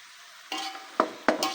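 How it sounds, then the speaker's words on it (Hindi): Pieces of beef being stirred with ginger garlic paste and salt in a pot, giving a few short scraping, clinking strokes after a quiet start, close and moderately loud. "मिक्स कर लेंगे और गोश्त को लहसुन में भूनने देंगे"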